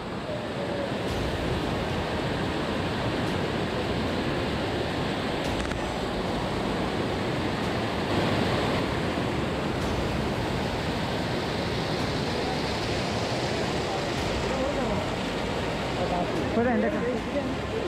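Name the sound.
Vellarimala waterfall flowing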